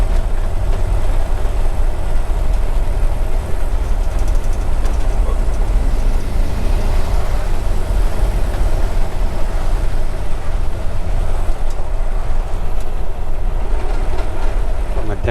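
A 1951 Ford F-1 pickup carrying two adult passengers cruises in high gear, its steady engine drone and road rumble continuous and loud throughout, with someone talking over it.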